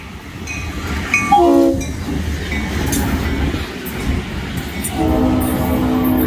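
Florida East Coast Railway train FEC 105, running empty on a northbound return trip, rumbles past close by with a loud horn blast early on and steady rolling wheel noise throughout, no voices.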